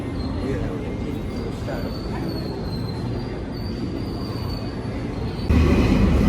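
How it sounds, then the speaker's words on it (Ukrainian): A Rome metro train runs steadily through a tunnel, a continuous loud rumble with a faint high wheel whine, growing louder and rougher near the end. "В Римі ми в метро."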